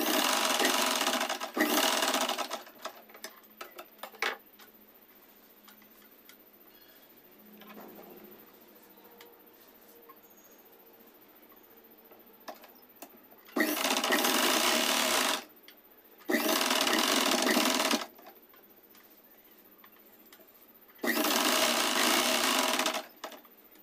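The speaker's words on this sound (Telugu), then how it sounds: "దీనిపైన ఇంకో డబల్ స్టిచ్ అయితే వేయండి, కొంచెం స్ట్రాంగ్గా ఉంటుంది" A sewing machine double-stitches a dress made from a saree, running in short bursts at the start and then three longer steady whirring runs, separated by quiet pauses with small handling clicks.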